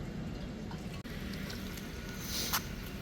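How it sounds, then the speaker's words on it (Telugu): Water runs into a cooking pot set up to boil meal maker soy chunks, a continuous soft close rush with a short break early on and a slight swell near the end. "వాటర్ వేసుకుంటున్నాను"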